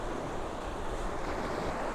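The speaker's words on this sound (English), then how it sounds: "the nice waves that are down there" Sea waves surging around a stone pier at St Monans, a steady, moderately loud wash of surf with wind rumble underneath, continuous throughout and with no voices.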